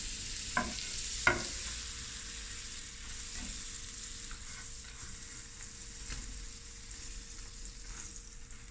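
Butter sizzling in a pan for a creamy mussel curry: a steady, close frying hiss that runs throughout, with two sharp clicks from the pan near the start.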